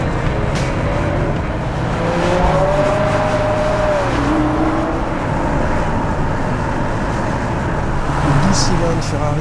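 Ferrari 812 Superfast with its 6.5-litre, 800-horsepower V12 runs under someone talking, its engine tone rising and settling in the background.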